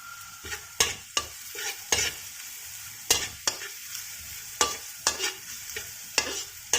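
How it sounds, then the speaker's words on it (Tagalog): Garlic sizzles steadily in a pan for fried rice with salted fish, frying toward brown, while sharp stirring scrapes cut in at an irregular rhythm, close and moderately loud. "Try natin hanggang mag-brown yung garlic."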